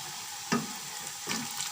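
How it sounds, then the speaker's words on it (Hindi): Spices frying in oil for biryani, a steady soft sizzle with two short stirring scrapes, close by and with no talking. "अब इसको फ्राई करेंगे अच्छी तरह से।"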